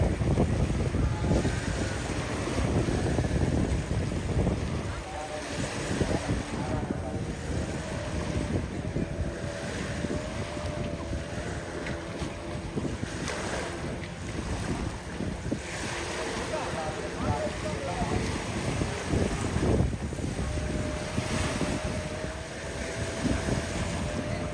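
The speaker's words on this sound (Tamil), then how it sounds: "நல்ல காற்று அடிக்குதுங்க பாருங்க." Strong wind gusts over the sea during a boat race at Mathagal, Jaffna, roaring continuously with rumbling waves and microphone buffeting, while voices talk faintly underneath.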